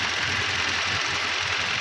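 A 2015 Toyota Fortuner engine idles after repair work on its balancer bushings, a close, even mechanical drone with a faint rhythmic pulse throughout. Nobody speaks.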